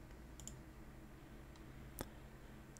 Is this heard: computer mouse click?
yes